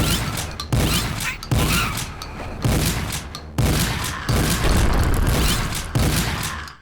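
Shotgun with the Slugshot upgrade in a first-person shooter, firing slug rounds: about eight loud, heavy booming blasts in steady succession, each followed by a brief mechanical rack.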